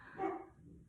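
A single short dog bark, fairly faint and somewhat distant, then quiet.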